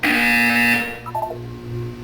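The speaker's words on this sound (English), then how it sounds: "You will hear a buzzer." In the video game Portal 2, a harsh electronic buzzer blares loudly for about a second, then cuts off, leaving faint tones behind.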